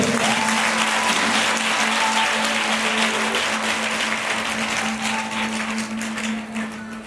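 Loud, sustained clapping from a church congregation praising God fills the room for several seconds, steady and dense over a faint constant hum, tapering slightly toward the end.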